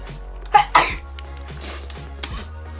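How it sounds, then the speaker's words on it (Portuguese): A single sharp human sneeze, preceded by a quick inhaled catch, sounds close and loud, then quiet room noise follows. "Eu vou espirrar."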